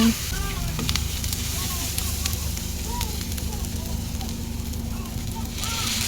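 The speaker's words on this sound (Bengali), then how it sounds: "একটু ভাজা হয়ে গেছে পেঁয়াজটা, এখন আমি পানিটা দিয়ে দিলাম।" Chopped onions fry in a pan with a soft, continuous sizzle and light crackle that stays even for the whole stretch, with faint background noise.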